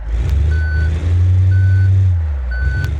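Truck reversing alarm in the BeamNG driving game, three evenly spaced loud electronic beeps over a deep, steady diesel engine rumble as the vehicle backs up, close and clear.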